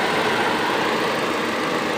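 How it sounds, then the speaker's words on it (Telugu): A 2011 Hyundai i10 car engine idles at close range with its radiator fan running, making a steady, even hum that continues unbroken and alone. "రేడియేటర్ ఫ్యాన్ తిరుగుతుంది సౌండ్ వస్తుంది సౌండ్ నీట్గా నచ్చు"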